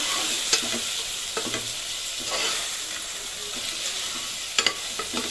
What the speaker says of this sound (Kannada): 1 ಸ್ಪೂನ್ ಧನಿಯಾ ಹಾಕಿ ಫ್ರೈ ಮಾಡಬೇಕು.